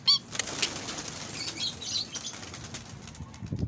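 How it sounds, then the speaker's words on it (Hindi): Pigeons take off together, a burst of close, loud wing flaps at the start and then continuous flapping and fluttering as the birds fly off, with a faint chirp or two. "उसके बाद कबूतर उड़ते हैं"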